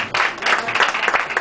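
Audience applause at an awards ceremony in a Spanish-speaking hall, welcoming an actress and host to the stage; dense, steady clapping from a nearby crowd, loud throughout.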